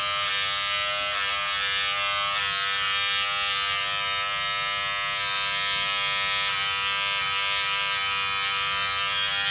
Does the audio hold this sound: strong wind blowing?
no